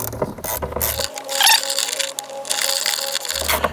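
A ratchet on an extension clicks in quick bursts while snugging a 13 mm battery tie-down bolt in a VW/Audi engine bay, close and clear with short pauses between strokes.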